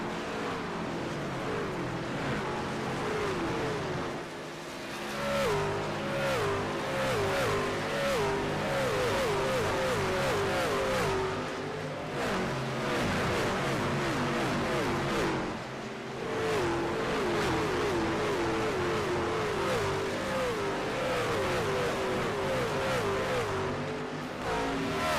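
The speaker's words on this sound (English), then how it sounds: "Let's check out the roar. Feel the roar. The trucks, playoff style at Phoenix." Racing trucks in a playoff race at Phoenix roar around the track, a steady loud engine drone with rising and falling pitch as trucks pass and accelerate, continuous through the clip.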